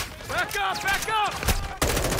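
Gunfire bursts in the Modern Warfare 2 mission Hindsight crack out under shouted talk, ending in one loud, sharp report.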